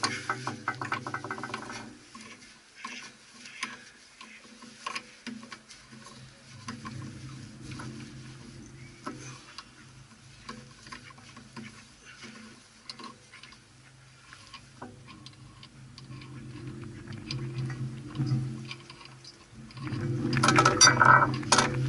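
A socket wrench ratchets a pinion nut off a Ford Ranger / Mazda B2500 pickup rear axle, quiet bursts of rapid clicking that come and go over about twenty seconds, with some louder handling near the end.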